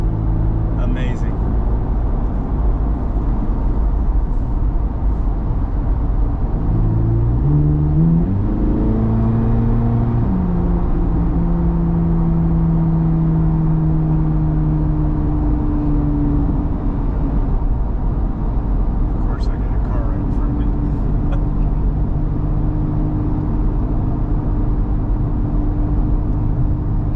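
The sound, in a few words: Chevrolet Corvette C8 Z06 engine revving while driving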